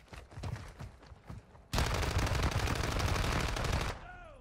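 Video-game gunfire in Call of Duty DMZ: a few spaced single shots give way to a loud, continuous, close automatic burst lasting about two seconds before cutting off.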